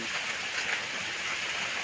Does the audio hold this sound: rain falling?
yes